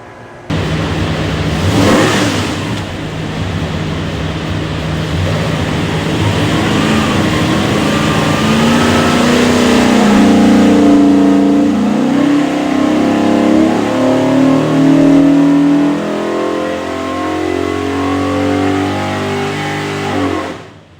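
A 521ci big block Ford V8 with Holley EFI, naturally aspirated and run on an engine dyno, roars loudly and steadily for about twenty seconds, its pitch climbing through a sustained pull before cutting off sharply.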